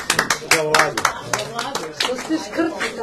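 Guests at a 55th graduation reunion of a Jagodina gymnasium give a short burst of hand clapping nearby. The applause rises and fades over a few seconds, with voices mixed in.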